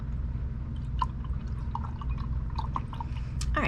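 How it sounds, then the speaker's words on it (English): Paintbrush being rinsed in a container of water, with soft close splashes and scattered drips against a low steady background, heard alone. "I'm rinsing out my brush."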